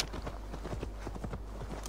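Rapid horse hooves clop in a steady galloping rhythm in Assassin's Creed Valhalla, close and continuous over a low rumbling background for about two seconds.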